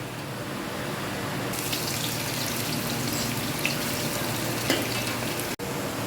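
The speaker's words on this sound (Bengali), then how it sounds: "এবারে মাংসটা চাপিয়ে দিচ্ছি।" Meat frying in a pan during biryani preparation, a steady broadband sizzle holding at even loudness throughout with a few small pops and a brief dip near the end.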